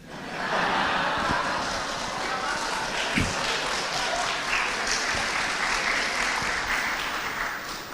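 A crowd applauds steadily with dense clapping that holds for several seconds before easing slightly; voices are mixed into the noise.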